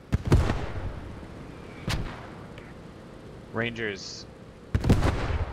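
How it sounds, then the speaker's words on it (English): Distant Axis mortar shells landing in Post Scriptum, several muffled booming impacts spread out with pauses between them, while a voice speaks briefly over radio chatter. "Here come the Axis mortars, I think."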